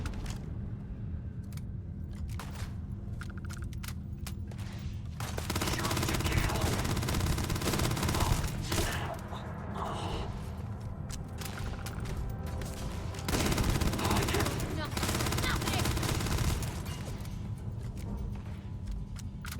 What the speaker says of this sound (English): Damn, that is a shotgun